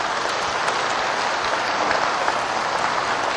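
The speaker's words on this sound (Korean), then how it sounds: "박수 한번 하라고" An audience at a religious gathering applauding, a steady, dense, rain-like wash of clapping that holds an even level throughout with no talk over it.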